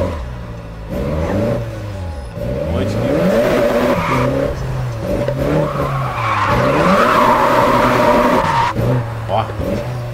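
A car in the Japanese Drift Master drifting game roars through repeated rising and falling revs, with tires skidding and squealing loudly between gear changes over about ten seconds.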